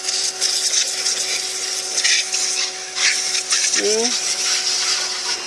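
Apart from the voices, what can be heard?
pressure washer spraying vehicle with foam cannon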